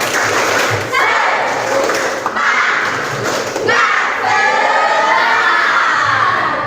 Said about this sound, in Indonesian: ketua kelas bisa pimpin tepuk semangat dulu biar kita makin semangat ya